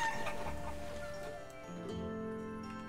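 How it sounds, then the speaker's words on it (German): Chickens cluck repeatedly in the medieval village-building game Life is Feudal: Forest Village, a steady run of fowl calls over a busy, layered game soundscape. "Alles für die Hühner."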